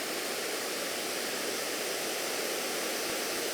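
A Rain Bird 5000 rotor sprinkler head sprays water outdoors, giving a steady, unbroken hiss of spray at close range with no voices.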